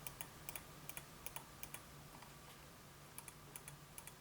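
Crisp left-button clicks of a LAMZU Inca gaming mouse tap out in an irregular series of quick, close, light snaps, some in pairs, over a quiet background.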